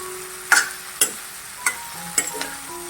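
Okra bhaji being stirred in a wok: a spatula scrapes and taps against the metal in about five distinct strokes at an unhurried pace, close and fairly loud over a faint sizzle, with no talking.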